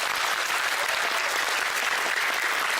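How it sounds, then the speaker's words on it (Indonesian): Steady, dense audience applause fills a hall after a talk by Anies Rasyid Baswedan, continuous and even throughout with no pauses. "Mari kita berikan tepuk tangan."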